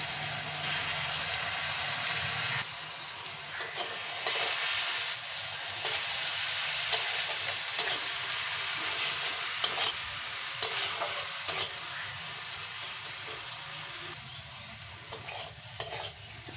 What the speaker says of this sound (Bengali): নুন আর সামান্য জল দিয়ে মশলাটা খুব ভালো করে ভেজে নেব